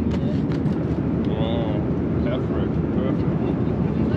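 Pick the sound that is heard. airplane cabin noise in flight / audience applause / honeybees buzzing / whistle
airplane cabin noise in flight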